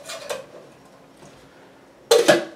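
A metal camping cook set pot being handled, with a light clank near the start and a sharper double clatter of metal near the end, close and fairly loud against quiet.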